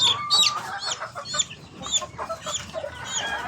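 Chicks cheeping in a rapid, continuous chorus of short high chirps, close and fairly loud, with some clucking mixed in and no talk.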